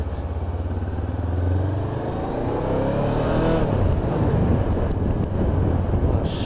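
Honda CB500 motorcycle accelerating through the gears on a road ride, with the engine note rising in pitch, dropping at a gear change and climbing again, loud and close amid wind noise.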